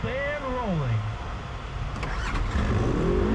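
Pro UTV race cars launch off the start in tight woods at Charner's Run, engines rising in pitch as they pull away, loud and close, with someone talking over the acceleration.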